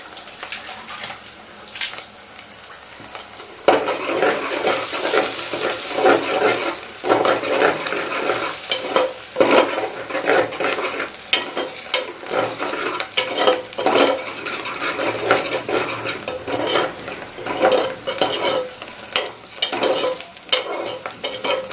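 Onions fry in a pan while being cooked toward golden brown for an egg curry, giving a loud, continuous sizzle with frequent scraping and clinking from stirring.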